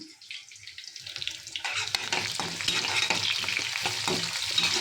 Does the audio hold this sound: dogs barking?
no